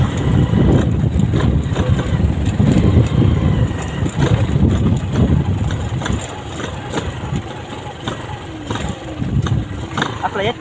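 A motorcycle engine idles with a low, uneven rumble that runs steadily beneath people talking nearby.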